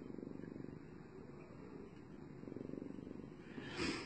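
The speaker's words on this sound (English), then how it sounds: "I think you can hear him purr." A lynx point cat purring softly and steadily close by, a low continuous rumble that swells briefly near the end.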